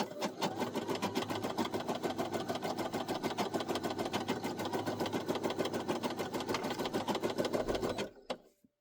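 A Brother SE1900 embroidery machine stitches out a coffee coaster with a fast, steady mechanical chatter of rapid even needle strokes, close and constant, then it stops abruptly near the end.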